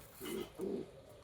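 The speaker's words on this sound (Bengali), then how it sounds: "আর এই যে এটা হচ্ছে মাদি কবুতরটা।" A pigeon on its nest gives two soft, low coos in quick succession, close but quiet, against faint background noise.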